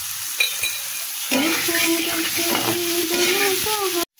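Chili powder being stirred into pointed gourd frying in a pan, a steady close sizzle with scraping spoon strokes running throughout, starting quieter and growing fuller.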